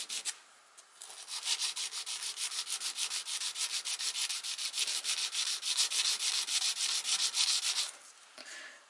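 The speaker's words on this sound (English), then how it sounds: "So we are just rubbing our angles of the peak on the sandpaper gently." A lock pick scrubbed back and forth on sandpaper with gentle, steady strokes: a close, even, rhythmic rasping that runs for about seven seconds, with no talking.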